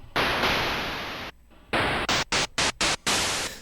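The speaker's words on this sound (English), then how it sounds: "we have our white noise and we want our white noise to be a little bit more intense on the higher frequencies" Bursts of white noise from a Native Instruments Massive synth hiss loudly, first a long sustained wash, then a string of short choppy gated pulses separated by brief silences.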